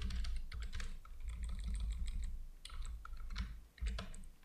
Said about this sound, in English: So here we can type an email ID from which name you want to receive the email, like Bill Gates